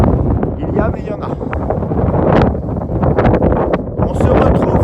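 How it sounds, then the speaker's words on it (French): Steady wind buffets the microphone with a roar and gusts atop the Dune du Pilat, continuous and close, with no other sounds standing out. "On se retrouve en haut avec un petit vent qui souffle."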